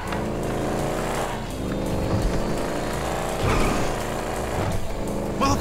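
Engine roar of a large motorcycle ridden in the video game GTA V, a steady loud drone with shifting revs and background game noise throughout, no talking.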